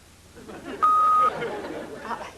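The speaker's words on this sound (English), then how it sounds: "Leave a message at the beep." A single steady electronic answering machine beep, an E flat, lasting about half a second, loud and clear, with quiet background chatter before and after.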